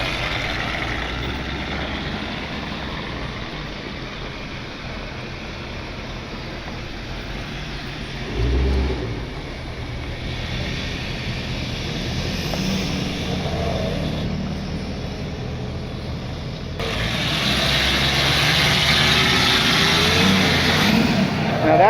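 An off-road wrecker rollback tow truck drives into its new yard loaded with a recovered truck cab, engine rumbling steadily and close, swelling louder near the end with wind noise, no talk.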